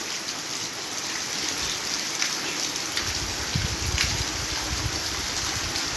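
Morning rain falls steadily at an ashram as an even, hissing wash of drops with no gaps. Faint patters and splashes grow a little fuller partway through.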